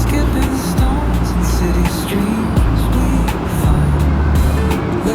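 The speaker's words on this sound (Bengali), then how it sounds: "প্রচুর গাড়ি" Heavy road traffic flows steadily past a shopping mall: a dense, continuous rumble of many cars, buses and trucks. The engines are close and loud throughout, with no horns sounding.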